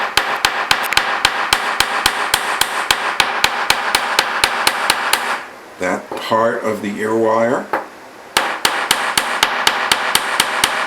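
Rapid, steady metallic taps of a chasing hammer striking wire on a metal block ring out, pausing briefly while a person speaks, then resuming at the same quick pace.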